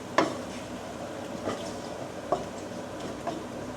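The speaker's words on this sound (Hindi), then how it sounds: "ये हल्का सा इसको भून लो मसाले को, पाउडर को" Spice powder masala being roasted in a pan, with a low continuous sizzle broken by about four sharp spatula taps and scrapes spaced roughly a second apart.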